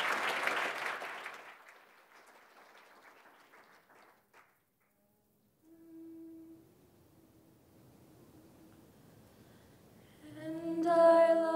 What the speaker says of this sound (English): give a cheer to the choir before they start, and a big one after they finish